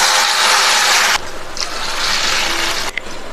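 Water gushes and splashes into a hot pan of semolina for rava upma with a loud sizzling hiss, then continues bubbling more softly.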